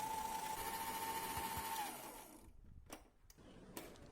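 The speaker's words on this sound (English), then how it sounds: "With a paddle attachment, mix it on high speed until the mixture is white and fluffy." Stand mixer fitted with a paddle attachment beating butter cake batter on high speed, a loud steady motor whir with a constant tone for about two seconds, then winding down into quieter scraping and clatter.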